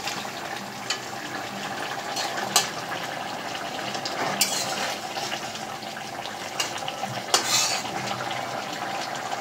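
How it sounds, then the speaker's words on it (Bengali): A spoon scrapes and clinks in a pot as a watery fish curry is stirred after water is added, a soft continuous sloshing with occasional sharper metal taps, close and moderately quiet. "একটু জল দিয়ে দিলাম, ওটা দেখি নাড়া করে"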